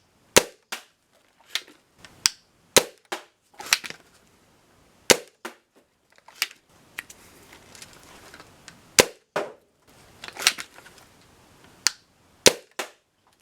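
A Lycan's Wargear HYPR foam dart blaster fires again and again, each shot a sharp, snappy pop, spaced irregularly with brief quiet gaps and faint mechanical clatter between them.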